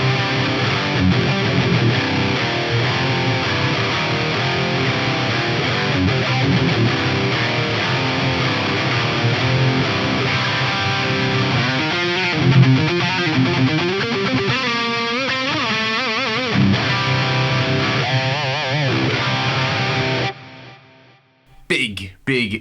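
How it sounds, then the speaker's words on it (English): A Hamer Standard electric guitar through a heavily distorted amp chugs out dense, loud palm-muted riffs with gritty sustained chords, continuing for about twenty seconds before cutting off abruptly into a few final stabs. "I have my Hamer standard today plugged in, and it sounds like this."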